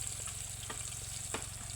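Food sautés in a pan on a rainy farm, a soft continuous sizzle with a few scraping stirs, fairly quiet and steady.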